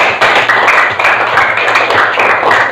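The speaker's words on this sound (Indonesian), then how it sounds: "Tepuk tangan dulu." A classroom of students claps for about three seconds, loud and close, in quick uneven bursts with a faint low hum underneath and no voices.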